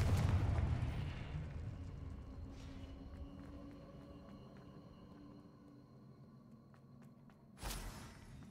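A Confringo blasting spell from the Hogwarts Legacy video game lands as a deep rumbling boom that slowly fades, followed later by a second sharp burst.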